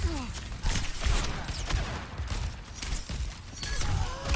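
Rapid gunfire from Ashe's rifle in the video game Overwatch, a busy stream of sharp close shots mixed with game effects and clatter, continuing throughout with no clear pause.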